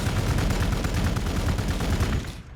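Sustained rapid gunfire from shooting a Catachan devil in Warhammer 40K Gladius, a dense, continuous volley of loud shots lasting about two seconds before cutting off abruptly.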